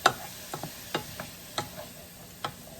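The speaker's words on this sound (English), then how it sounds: "so we're just sweating down these veggies" Diced vegetables sweating in olive oil in a soup pot for homemade chicken noodle soup, a faint, quiet sizzle broken by several soft clicks and scrapes of stirring at irregular intervals.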